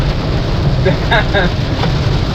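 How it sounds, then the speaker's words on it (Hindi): Dense, steady roar of very heavy rain drumming on a Honda Amaze car, loud and continuous, with a faint voice briefly audible beneath it. "आप आवाज से आइडिया लगा सकते हो कि बहुत तेज बारिश हो रही है"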